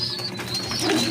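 Racing pigeons at a club loft in Arayat, Pampanga give soft, low cooing calls at close range, a brief murmuring burst over a faint background hum.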